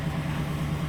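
A 2013 Chevy Silverado 1500, just repaired for multiple misfires, idles with a steady low hum and a constant tone, heard up close with no talking.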